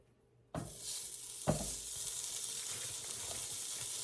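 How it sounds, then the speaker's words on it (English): Homemade bacon hits a very hot frying pan with a sudden loud sizzle, a second slice landing a moment later, then a steady, close, crackling fry continues without pause. "We're gonna put this on the frying pan and render some of the fat."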